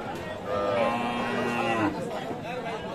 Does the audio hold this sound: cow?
yes